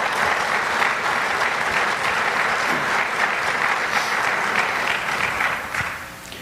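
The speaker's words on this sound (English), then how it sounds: "So please give them a round of applause." Audience at a political meeting giving sustained, dense applause, loud and steady throughout, fading only at the end.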